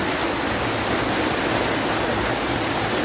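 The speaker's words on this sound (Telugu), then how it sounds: "వాటర్ ఫాల్ ఇది. అక్కడి నుంచి చక్కగా ఇలా పోతున్నది" Ranajilleda waterfall near Araku roars as a loud, steady, unbroken rush of falling water heard up close, with no other sounds over it.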